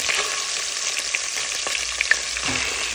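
Chicken fries in hot oil over a high flame, with a dense, continuous crackle and sizzle. Small pops and stirring clicks come through near the end, and nobody speaks.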